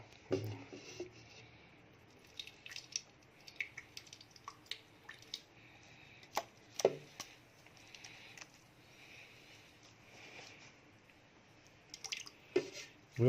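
Water being squeezed from a chopped mint and onion mix: scattered close drips, squishes and small splatters come in irregular bursts over a quiet background.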